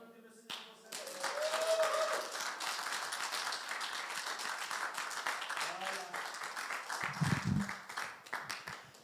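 A church congregation applauds the Lord during a worship gathering, with a fairly quiet, steady patter of clapping building after a brief start, a few voices and sung tones faintly underneath.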